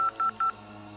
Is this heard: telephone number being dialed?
yes